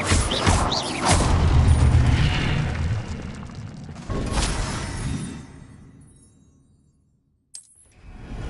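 An Incendio fire spell cast in a Harry Potter game on PS4: a loud booming whoosh and burst that rumbles for several seconds, then fades to near silence before a brief sharp pop.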